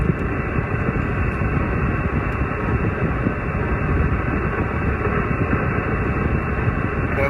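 Steady, unbroken hiss of ham radio static on an empty frequency while an antenna is tested, loud and continuous for several seconds with no voices.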